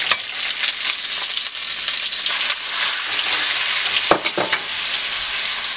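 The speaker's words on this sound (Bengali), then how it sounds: "চিকেনটাকে দিয়ে আমি নেড়ে চেড়ে এটাকে রান্না করে নিব" Thinly sliced chicken stirred and cooked in a hot pan gives a steady, close sizzle and crackle throughout, with a couple of brief scraping stirs near the end and no talking.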